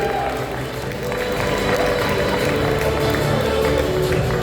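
An audience claps for a child's first-prize win in a lemon-and-spoon race at a prize-giving event, with dense, steady applause from a crowd, filling the space throughout with a murmur of voices underneath.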